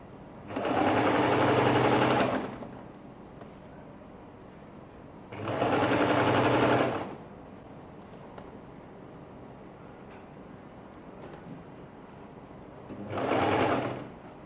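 A sewing machine stitches a ladies' shirt dress in three steady whirring runs of a couple of seconds each, separated by quiet pauses.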